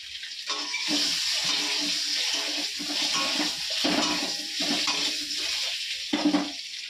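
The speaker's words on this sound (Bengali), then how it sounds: "তেলের মধ্যে নুন হলুদ দিয়ে দিয়েছি, দিয়ে আমি ডিমটা ভাজবো" Eggs fry in hot oil seasoned with salt and turmeric in a wok, a steady close hiss and sizzle with occasional low clatters and bubbling bursts, and no talking.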